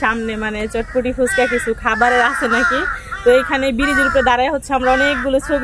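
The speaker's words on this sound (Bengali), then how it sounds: "আর এখনকার মানে চারপাশে কাক যে ডাকছে আরো ভীষণ ভালো ডাকতেছে।" Crows caw loudly and repeatedly outdoors on a bridge during a Boishakh outing, the harsh calls mixing with a person talking nearby.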